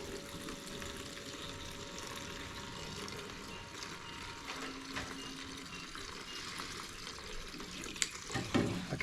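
Old fuel drains from a car's gas tank in a steady, faint trickle and gurgle, continuous and close, with a few small clunks near the end.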